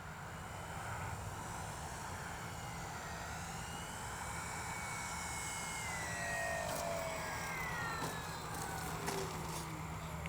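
Dynam DHC Beaver V2 RC airplane flying, a steady faint electric motor whine with slowly gliding pitch as it passes overhead outdoors, continuous throughout with no talk.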